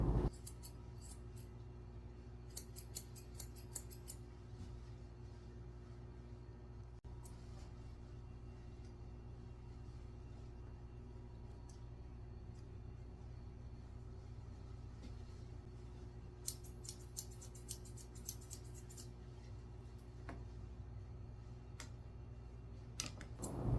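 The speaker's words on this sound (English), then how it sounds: "I'm using my curved scissors to trim his head up and to trim underneath his ears" Curved grooming scissors trim the head and the hair under the ears of a Cavalier King Charles Spaniel, making quick bursts of crisp snipping clicks over a steady low background hum, with a pause between the two bursts.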